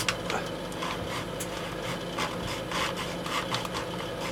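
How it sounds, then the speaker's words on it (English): A hand saw cuts through the plastic nose section of a Revell 1/72 Concorde model kit, giving close, continuous rasping strokes in a fast, even rhythm. "So you're sawing through to the edge of that line, through the nose section"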